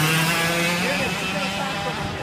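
Go-karts race around a Tag Class track at OVRP, their engines droning steadily and loudly with rising and falling pitch as they pass, while a spectator talks excitedly over the noise.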